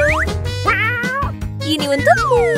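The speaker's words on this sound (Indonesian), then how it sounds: "Anak kucing, kamu sangat lucu." A kitten meows repeatedly, high and close, with several rising and falling cries over a steady low background.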